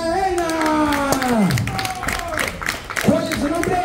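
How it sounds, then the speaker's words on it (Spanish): A studio audience at a game show claps and cheers for a contestant, a crowded patter of hands running under a loud, animated voice. "un aplauso para Linda Ena"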